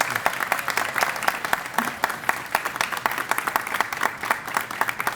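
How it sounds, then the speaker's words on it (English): Applause at a high school aviation program pinning ceremony, an audience clapping steadily for the program team, with distinct individual claps audible in a continuous, moderately distant wash. "How about a round of applause for this awesome team?"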